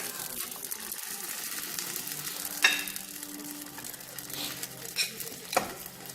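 A Michoacán-style shrimp enchilada frying in a hot pan after being flipped, a steady close sizzle with occasional soft clicks and pops.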